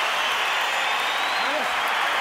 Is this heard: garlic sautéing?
no